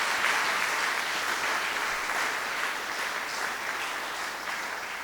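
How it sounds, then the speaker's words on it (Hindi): A church congregation applauds continuously, a dense patter of many hands clapping that fades slightly toward the end, with no talking. "तालियां बजाएं और उसको धन्यवाद दें।"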